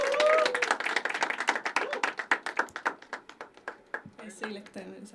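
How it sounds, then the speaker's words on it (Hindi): Audience clapping for a poet at a poetry open mic at The Habitat, a dense burst of many hands that thins into scattered individual claps and fades out over a few seconds. "जोरदार तालियां फॉर अंजलि पांडे"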